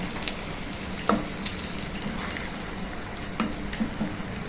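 Bottle gourd curry turned over and stirred in a pan over a lowered flame, a continuous gentle sizzle broken by a few light scrapes and clinks of the spatula against the pan, close and without voices.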